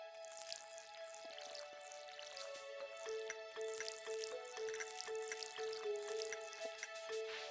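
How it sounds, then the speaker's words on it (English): Crops being watered in the farming video game Stardew Valley, a string of soft, bright watery splash and drip effects repeating steadily with layered chiming background music, no talking. "Let's get to watering all of our crops."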